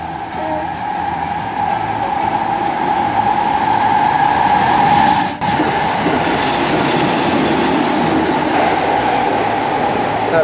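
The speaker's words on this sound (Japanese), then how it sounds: "お電車来るよ。" A green-and-orange train passing close by a roadside, a steady loud rumble with rail clatter and a high hum that runs for the whole stretch, with a brief dip midway.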